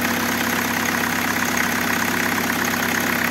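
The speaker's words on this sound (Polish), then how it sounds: "Idziemy od razu zobaczyć, jak silnik pracuje." A Kia Optima diesel engine idling with a glow plug fault, a steady even mechanical hum and clatter heard close up and continuous, with no talking.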